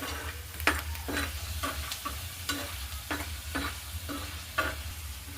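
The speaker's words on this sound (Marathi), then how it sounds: "शेंगदाणे मस्त ब्राऊन कलर येईपर्यंत खमंग असे भाजून घ्यायचे।" Peanuts dry-roasting in a pan, stirred at a steady pace: a run of scraping, rattling strokes over a low, constant background hum, with no talking.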